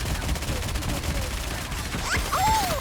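Enemy fire in the video game Goddess of Victory: Nikke, a dense, continuous barrage of rapid shots under game music, with sweeping laser-like zaps near the end.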